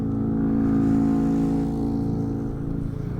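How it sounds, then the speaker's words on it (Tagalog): Steady traffic hums along a road with many cars and motorcycles passing, engines droning close and fairly loud with no talk, one vehicle's note rising then fading near the end. "Madaming motor. Madaming sasakyan."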